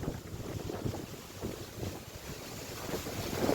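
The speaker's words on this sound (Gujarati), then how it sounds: "અત્યારે તો ફૂલ પવન થયો છે" Strong pre-rain wind gusts through coconut palms outdoors, heard as a loud, continuous rushing roar with heavy buffeting on the microphone and no clear voices.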